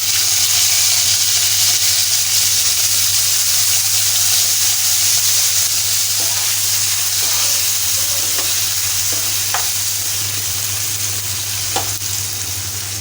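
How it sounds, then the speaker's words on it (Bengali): Cut okra frying in a pan of oil, a loud continuous sizzle and hiss close up with occasional spatula taps and scrapes over a low steady hum. "এখন আমি ঢেঁড়সগুলো ভেজে নিব।"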